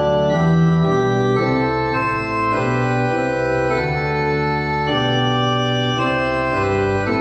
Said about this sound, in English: One of the hymns that you might know from the Genevan Psalter sounds like this.